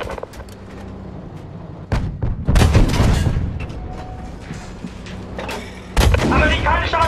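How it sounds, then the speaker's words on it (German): American artillery fire in Battlefield V, with heavy booming blasts landing near at about two and six seconds amid scattered gunfire, and a voice shouting in between. "Amerikanische Artillerie!"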